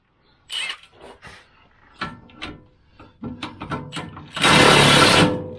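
Bolts being loosened and removed from the ARB skid pan under a Jeep Wrangler JKU, a series of close metallic ratchet clicks and clanks ending in a loud, sustained burst of tool noise.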